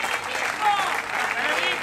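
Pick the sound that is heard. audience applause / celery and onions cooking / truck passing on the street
audience applause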